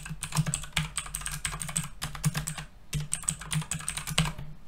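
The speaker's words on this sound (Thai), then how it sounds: "ผมก็พิมพ์เข้าไปนะครับว่าวงเล็บเปิดนะครับแล้วก็ใส่ชื่อเข้าไปนะครับ" Steady typing on a computer keyboard while entering text in a Microsoft Word document, with continuous close-up key clicks over nearly five seconds and a short pause near the three-second mark.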